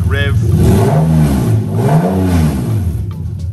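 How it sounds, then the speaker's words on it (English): A Toyota 2JZ-GE VVT-i engine fitted in a Lexus IS200 gives a quick rev, the engine note rising and falling loud and close with a steady running hum underneath. "I'll give it a quick rev."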